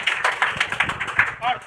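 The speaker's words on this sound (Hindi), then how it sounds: "ताली मार दो चारों के लिए भाई" Students in a Bihar Board Sanskrit group discussion class clap their hands in a quick, steady run of taps at close range, mixed with voices talking over them.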